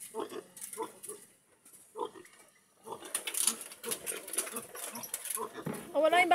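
A pig grunts and oinks repeatedly at close range in short bursts, with people talking over and between the animal's sounds.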